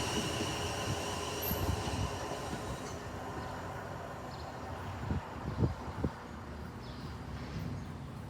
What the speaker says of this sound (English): Here is a class 444 arriving into Wool Station, bound for Weymouth.